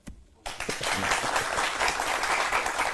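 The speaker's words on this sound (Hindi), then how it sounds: "फिर बजाई ताली" Audience applause at a Hindi spiritual talk about Lord Ganesha bursts in after a brief quiet moment, then holds as steady, dense clapping from a large crowd.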